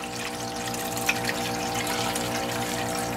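Water running steadily through a fine gold recovery system, a continuous close rushing and trickling flow with a faint hum underneath and a brief tap partway through.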